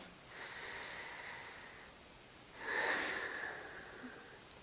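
Slow, deep breaths during a gentle yoga stretch for low back release: a long airy inhale followed by a louder, fuller exhale, close and soft, with no talking.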